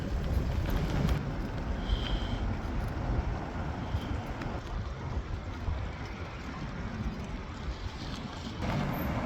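Steady wind blows at the seashore in Qatif, Saudi Arabia, a constant broadband rush with gusty low rumble and buffeting, moderately loud and continuous with no voices.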